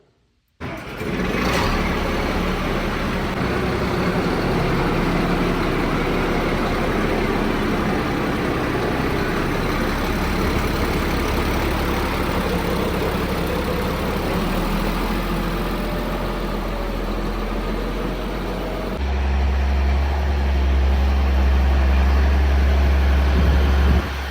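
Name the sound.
farm engine starting up and idling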